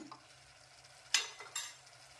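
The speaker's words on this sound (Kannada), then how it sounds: "ಎಣ್ಣೆಯಲ್ಲೇ ಅರಿಶಿನ ಸ್ಮೆಲ್ ಹೋಗೋ ತನಕ ಹುರ್ಕೋಬೇಕು ಇದನ್ನು" Turmeric frying in hot oil for a vegetable kurma, a soft sizzle with two sharp stirring scrapes, close and fairly quiet.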